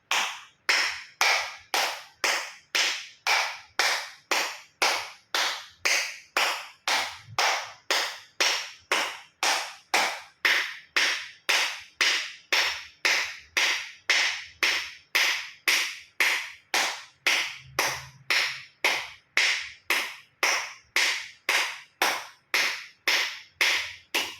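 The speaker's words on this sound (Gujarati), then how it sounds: "એક્યુપ્રેશર તાળી પૂરેપૂરા હથેળી આંગળા અંગૂઠા બધું ટચ થાય રીતે 50 વખત તાળી આપીશું" Firm full-palm acupressure claps with fingers and thumbs meeting, struck one after another in a steady, even rhythm for about fifty beats, each clap sharp and close with silence between.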